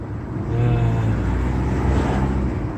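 A car cruises along the Aewol coastal road, a steady close engine drone and tyre rumble holding throughout at a moderate level, with no talk.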